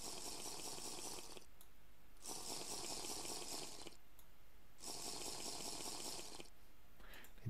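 Water is scooped up in Minecraft, heard as three bursts of bright splashing and pouring, each lasting over a second and separated by short quiet gaps, close and moderately loud.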